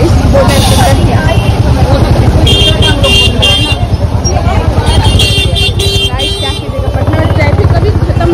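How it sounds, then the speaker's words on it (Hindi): Busy street traffic in Patna with car and motorbike engines rumbling close by and repeated bursts of horn honking, some short toots and some longer blasts, over a constant babble of voices from the road. "पटना ट्रैफिक कभी खत्म हो ही नहीं सकता,"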